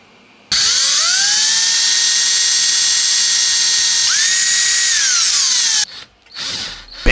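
A power drill drives screws into a PC power supply during a case modification, its motor whining steadily for about five seconds and rising in pitch briefly near the end, loud and close with no talk.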